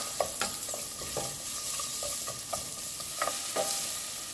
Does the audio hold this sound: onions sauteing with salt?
yes